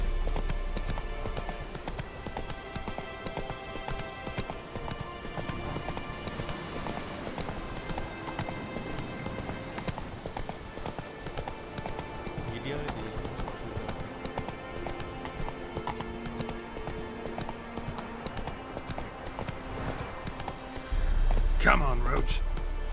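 Roach the horse from The Witcher 3 gallops with steady clip-clop hoofbeats under continuous game music and ambience, with a voice talking over parts of it and a louder burst near the end.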